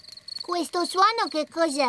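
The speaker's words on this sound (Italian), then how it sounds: "Questo è il suono dei grilli che cantano." Cartoon crickets chirp in a steady, high, thin trill that runs faintly behind a speaking voice.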